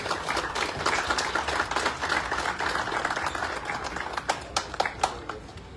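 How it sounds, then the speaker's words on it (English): A motor club award evening crowd in Kisumu claps for a rally champion; the dense applause thins out toward the end, leaving a few loud, separate claps close by. "Once, round of applause."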